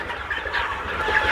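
Fifty-day-old Egyptian Fayoumi pullets on a farm flock of about 1800 birds cluck and chatter continuously in a dense, busy chorus, with no one speaking.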